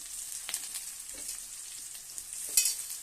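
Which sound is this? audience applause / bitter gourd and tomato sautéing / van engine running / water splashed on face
bitter gourd and tomato sautéing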